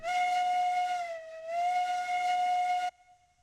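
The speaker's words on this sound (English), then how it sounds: "All right, confident whistle." The steam locomotive Montezuma in the game Railroads Online lets out one long, loud, steady whistle blast with a slight dip in pitch midway, then cuts off sharply into a faint hiss.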